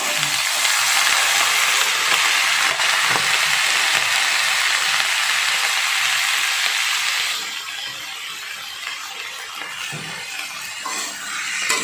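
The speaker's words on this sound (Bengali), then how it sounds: "ফুলকপি বিনস কুমড়ো মটরশুঁটি হিম পেঁয়াজ আর টমেটো একসঙ্গে কড়াতে দিয়ে দিই" Cauliflower, beans, pumpkin, peas, onion and tomato hit a hot wok with a loud steady sizzle, which drops to a quieter crackle partway through, with faint clinks and no talk.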